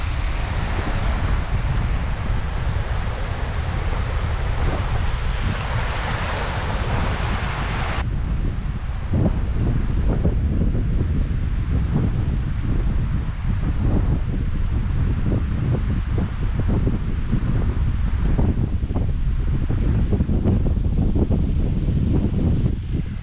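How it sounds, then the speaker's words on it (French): Strong easterly wind on the Danish coast buffeting the microphone: a loud continuous roar and rumble with gusting flutter, steady throughout and without speech. "il y a quand même un vent à décorner des bœufs"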